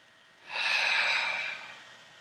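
A single deep exhalation during a yoga stretch rises and falls as one smooth, breathy rush lasting about a second, close and clear against a quiet room.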